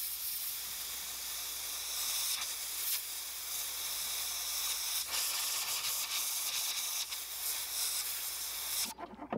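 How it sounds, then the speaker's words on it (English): An airbrush sprays paint onto a wooden ChatterBait lure, giving a continuous close, loud airy hiss that lasts almost ten seconds with slight surges in intensity before cutting off abruptly at the end. "Next up for this bait, I'm gonna airbrush the lateral line."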